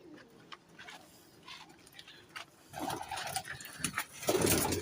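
Colourful fancy pigeons kept in pairs make soft, intermittent cooing calls close by, with scattered rustles and a louder flurry toward the end.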